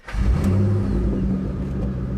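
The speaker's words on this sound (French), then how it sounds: "ce rassemblement a permis de réunir près de 800 véhicules, dont certains dotés de moteurs V8 au vrombissement spécifique" American car with a 4.6-litre V8 of about 300 horsepower at a large car gathering: a loud, close engine rumble with a brief rev at the start, then a steady low idle.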